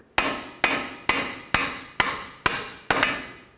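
Seven evenly spaced, sharp hammer blows strike a Ford Fusion front rearward lower control arm to break it free, each a loud metallic bang with a short ringing decay, close up and without speech.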